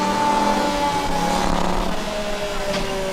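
A Formula Student race car's engine drones at high revs while stuck in a low gear during an endurance event, a steady held tone with no audible shift, loud and continuous for about three seconds.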